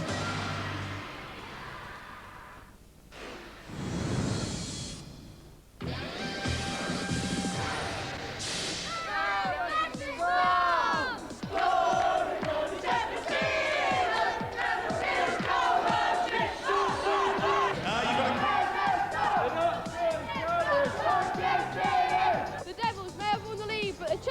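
A large ice hockey arena crowd in 1997 roars and cheers, with a loud swell after a brief lull, while a commentator talks over the sustained crowd noise.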